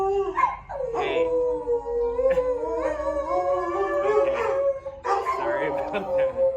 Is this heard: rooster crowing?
no